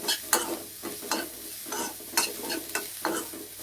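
Coriander, capsicum and green peas sautéed in a pan, with repeated scraping stirs at an irregular rhythm over a light steady sizzle, close and fairly quiet.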